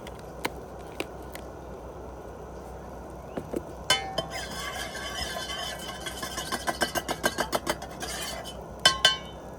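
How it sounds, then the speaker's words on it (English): A spoon stirs sugar into coffee in a cup at an outdoor campsite, a run of quick, bright metallic clinks against the cup that speeds up into a rapid rhythmic tapping, close and clear over faint background ambience. "Stir it up"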